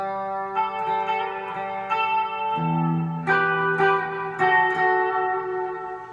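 A clean, ringing electric guitar plays a slow sequence of chords and single notes, each tail washing out in a roomy reverb, with no talking.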